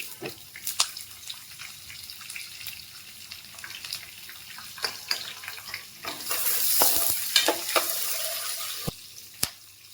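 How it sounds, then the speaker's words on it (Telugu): Two large chopped onions go into hot oil with tempering spices and sizzle close and crackly, with scattered sharp pops, stirring, and a stronger hiss building midway. "పోపులు వేగిపోయాక ఉల్లిపాయలు వేసుకుందాం"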